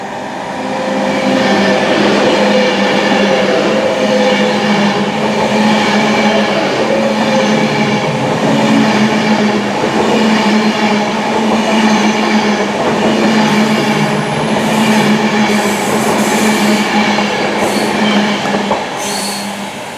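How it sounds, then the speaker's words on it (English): A Class 350 Desiro train passes close at Hamstead station in the West Midlands, a loud, continuous rumble of wheels and motors with squealing and rail clatter lasting throughout. "So all you get at Hamstead is just the Class 350 Desiros."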